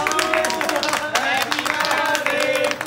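A family claps and sings along to a birthday song at home, with steady rhythmic handclaps under overlapping voices and a dense, busy background throughout.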